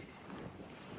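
Strong wind sweeps across the beach at False Cape State Park in Virginia, buffeting the microphone with a continuous roaring rush.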